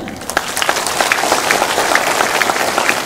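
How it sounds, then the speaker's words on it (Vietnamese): Audience applause fills a fundraising concert hall in Dallas, a dense, even burst of many hands clapping at full strength for about three seconds without voices over it. "một tràng pháo tay thật lớn"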